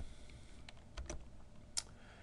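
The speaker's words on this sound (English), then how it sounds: "I'm going to type S" A few sparse, faint taps on a computer keyboard as the S key is pressed during drafting work at a desk, spaced unevenly against a quiet room hiss.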